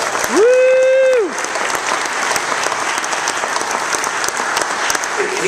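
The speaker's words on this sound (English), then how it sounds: "we can applaud for him" A crowd at a political event with Mitt Romney breaks into applause, opening with a loud whooping shout before steady, sustained clapping from many people fills the room.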